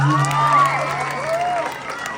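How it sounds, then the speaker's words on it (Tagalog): An audience at the Queen of Ilagan 2025 pageant claps and cheers, with whoops and excited high shouts rising over a crowd roar, loud and close, easing slightly toward the end. "Wala po bang palakpakan dyan?"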